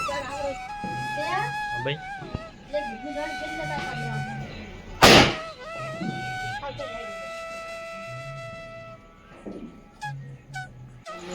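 One sharp, loud firecracker bang bursts out midway through the clip while people talk and chatter continuously around it during Diwali celebrations.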